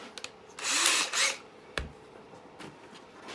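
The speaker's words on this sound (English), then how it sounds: "So I'm going to drill a 3mm hole in there." A power drill boring a 3mm hole during assembly of a TIE pilot helmet, two short whirring bursts followed by a sharp click and a faint knock, close and fairly quiet.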